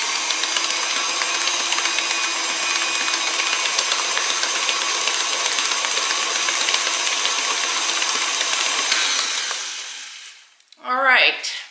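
An electric mixer whirs steadily while mixing sour cream sugar cookie dough, a loud continuous motor drone that stops near the end, followed by a brief voice.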